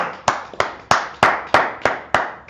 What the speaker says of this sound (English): Let's clap it up for the brother and sister